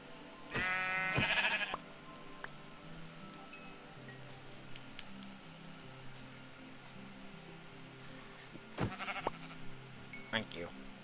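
Sheep bleating in the video game Minecraft, a couple of short bleats near the start and again toward the end over a soft ambient game background, with a person talking at times.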